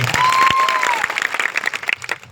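A crowd at a political rally applauds police officers who have stood on duty since morning. The clapping is dense and steady, with a thin whistle running through the first second.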